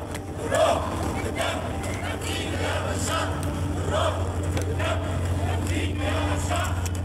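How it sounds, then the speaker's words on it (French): A crowd cheers for Bashar al-Assad in Syria, a steady roar of many voices with rhythmic chanting swells and a low background rumble, sustained and moderately distant. "Bachar al-Assad est acclamé par la foule"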